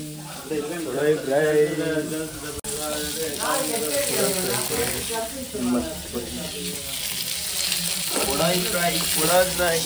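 Fish fries in a pan with a steady, close sizzle and crackle, and occasional stirring clatter. Voices talk over it almost the whole time.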